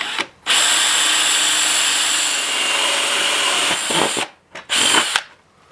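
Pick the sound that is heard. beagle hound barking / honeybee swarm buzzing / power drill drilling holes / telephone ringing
power drill drilling holes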